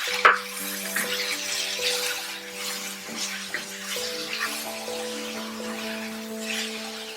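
Tomato frying with browned onions in a pan for a butter paneer dish, a steady soft sizzle with occasional stirring scrapes and a faint steady hum underneath, close and moderate in level, with no talking.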